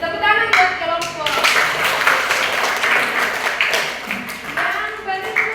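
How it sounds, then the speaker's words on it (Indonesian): A class group claps by hand together in quick bursts of sharp, close claps, while children's and adults' voices talk and call out over and between the claps. "Tepuk tangan buat kelompok."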